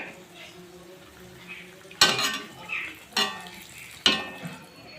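Hot oil is poured over palm-sugar malpua frying in a pan, giving three sharp sizzling bursts about a second apart that rise above a quiet background crackle.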